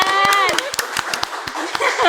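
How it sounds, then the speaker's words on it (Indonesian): A few people clapping hands at the start of an Indonesian podcast, sharp broadband claps arriving in a loose, uneven rhythm up close, with voices and a chuckle mixed in over the claps. "tepuk tangan"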